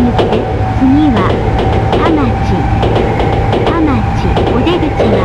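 Steady low rumble of a Tokyo Yamanote Line commuter train in motion, with a constant hum and faint rhythmic clatter, while Japanese announcements and chimes come and go over it.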